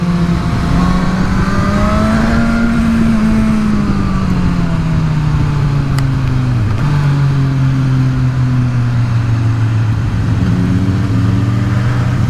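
A Suzuki Katana motorcycle engine drones loud and close as the rider accelerates, a steady throaty hum whose pitch climbs, dips slightly, then settles into a sustained cruising tone, with no voices.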